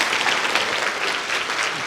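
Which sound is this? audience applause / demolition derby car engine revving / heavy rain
audience applause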